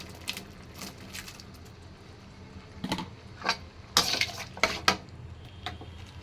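A spoon stirs spicy sago khichdi with vegetables in a pan, giving scattered scraping clinks of metal on metal in uneven bursts, louder toward the end, with no talk.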